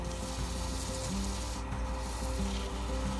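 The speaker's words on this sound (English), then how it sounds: "I can see a few high spots like right there, so I'll just sand that a little more down" Sandpaper rubs a wooden ring coated in CA glue finish, a close, continuous rhythmic back-and-forth scratching with an even, steady level throughout.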